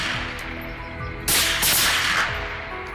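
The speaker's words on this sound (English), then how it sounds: "Gunshots rang out, each hog dropping swiftly to the ground." Gunfire during a wild hog hunt on farmland, two sharp loud blasts close together amid a continuous dense background of noise, with no talking.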